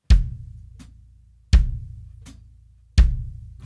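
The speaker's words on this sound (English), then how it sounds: "the feet are playing a simple quarter note pulse, alternating with the right and the left foot." Drum kit feet play a steady quarter-note pulse, alternating right and left foot: three deep, booming kick-like hits about 1.5 seconds apart, each followed by a lighter pedal tap between them, alone and close.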